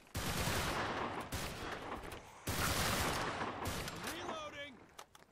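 Dense, sustained gunfire from SWAT units in a Garry's Mod horror battle against demonic monsters, loud and continuous with brief breaks, then tapering off under faint, whooping creature-like tones near the end.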